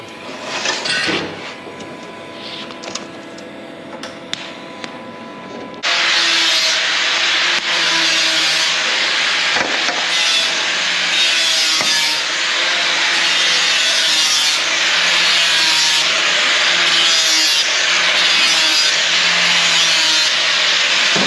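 A grinder works the edges of a thick 5 mm aileron part, a loud, continuous abrasive grinding that dominates from about six seconds in after a quieter stretch of intermittent handling noise.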